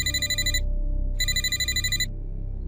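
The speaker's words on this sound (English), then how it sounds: "That's when my phone rang again." A telephone rings twice as a sound effect in horror story narration: two loud electronic trilling bursts separated by a short gap, over a low steady hum.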